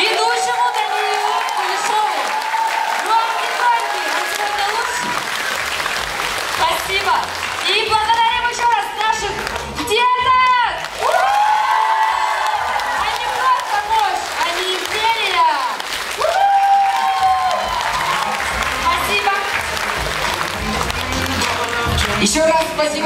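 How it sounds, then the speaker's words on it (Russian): Audience at a dance school's year-end recital concert bursts into loud, sustained applause with cheers and whoops, a dense roar of clapping that carries on steadily for over twenty seconds. "хочу аплодисменты нашему великому ведущему Даниилу Кулешову"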